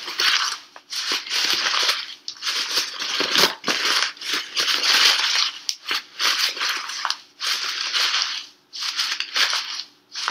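A paper bag being crumpled and scrunched by hand to soften it for a tapa cloth craft, loud close crinkling in repeated bursts with brief pauses between.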